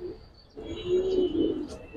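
A large male Giribaz high-flyer pigeon cooing close by, a low drawn-out coo rising and swelling after a brief pause, alone without talk.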